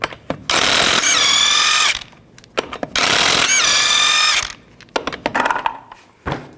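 A power tool with a 22mm socket spins lug nuts off a 1999-07 Chevy Silverado 2500 front wheel: two loud sustained whirring bursts with rising pitch, then short clicks and clatter, close up.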